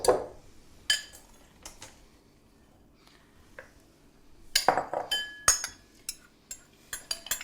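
A big spoon folds lemon zest, ground almonds and flour in a bowl, giving scattered clinks and scrapes against the bowl with quiet gaps between them.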